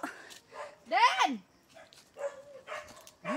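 A dog barks several times in short, sharp bursts nearby in Calbayog, Samar, with brief quiet gaps between the barks.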